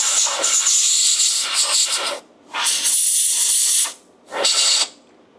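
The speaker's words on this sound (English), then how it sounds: "Now we want to take some air and blow them out really good." Compressed air hisses loudly through rinsed car air-conditioning parts in three strong, close blasts, a long one followed by two shorter ones, with brief silent gaps between.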